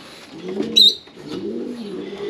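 Racing pigeon cooing close by, two soft low rolling coos with a brief sharp high chirp between them, alone without talk.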